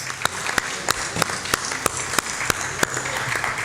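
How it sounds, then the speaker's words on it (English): Steady applause from a crowd, with sharp individual claps punctuating a continuous patter at a regular pace. "let's give them a big round of applause"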